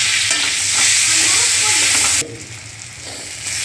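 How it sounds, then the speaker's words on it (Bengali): Chopped onion is dropped into hot oil left over from frying prawns, producing a loud, hissing sizzle that suddenly eases to a quieter, steady bubbling partway through. "চিংড়ি মাছের ভাজা তেলের উপরেই দিয়ে দিলাম পেঁয়াজ কুচি।"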